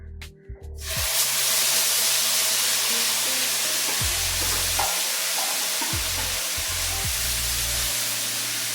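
Ground coconut paste sautéing in a pan for buttermilk curry gives a steady, close sizzle that starts abruptly after a second and carries on throughout, with occasional scraping stirs underneath.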